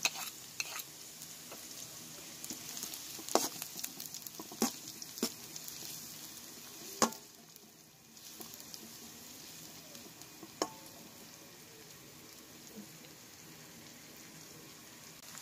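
Onions stirred and sautéed in a pan for spaghetti sauce, a steady soft sizzle with scattered scraping clicks from the utensil, close and quiet, no voices.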